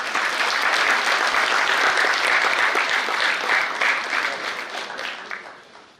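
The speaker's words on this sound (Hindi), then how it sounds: "जोरदार तालियां।" Loud, sustained applause from the audience at a dance-drama performance, a dense steady roar of clapping that fades gradually toward the end with no talking.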